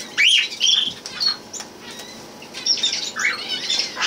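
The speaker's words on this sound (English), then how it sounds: "Sunny, my older parakeet, who has not laid any eggs at all for several years" An older American parakeet flaps its wings in a quick loud burst, then gives several sharp chirps and squawks close by, with short pauses between calls.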